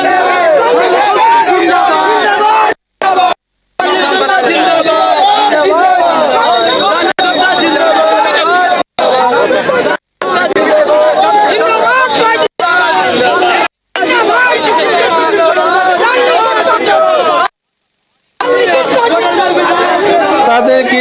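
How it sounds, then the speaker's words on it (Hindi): A dense crowd packed outside the nomination office of independent candidate Shalini Gupta in Koderma, loud, continuous chatter and overlapping voices close by, cut by several brief gaps. "जो भीड़ है यहाँ पे"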